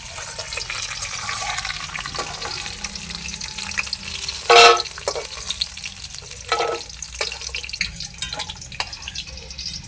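Peanuts, cashews and raisins frying together in oil, a continuous sizzle with stirring scrapes and a brief louder burst near the middle.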